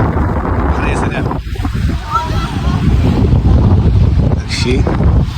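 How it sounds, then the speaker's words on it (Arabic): Wind buffeting the microphone on a Spanish sea shore, with steady rushing water and surf filling the whole stretch loudly. "ها هو بحر يا سلام"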